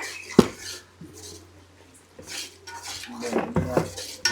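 A utensil stirs masala in a metal cooking pot, giving scattered clinks and scrapes against the pot with quieter pauses between and a louder clatter near the end.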